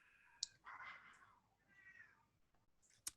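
A cat meows twice, a drawn-out mid-pitched call followed by a softer, shorter one, with sharp clicks before and after, fairly quiet and close.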